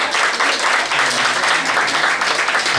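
Applause at an evening gala event in Cotonou, a first edition celebrating prop makers, with steady dense clapping from an audience filling the whole clip, loud and close.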